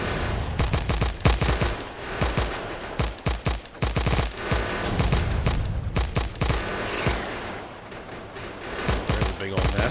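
Rapid bursts of gunfire in the video game Factorio as guns are turned on a large alien nest, dense crackling volleys repeating loudly throughout with brief gaps.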